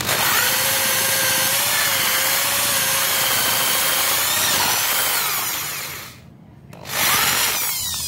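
A power drill with a hinge-cup boring bit whines steadily as it bores a concealed hinge hole into wood, loud and close, pausing briefly near the end before starting up again.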